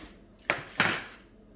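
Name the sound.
wild boar poppers being placed into a baking pan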